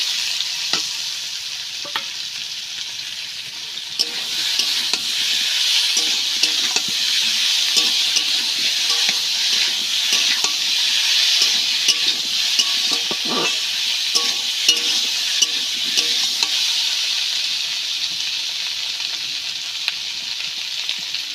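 Cumin paste being stirred and fried in a pan for a spinach and prawn curry, a steady close sizzle with scraping stir strokes throughout, no talking.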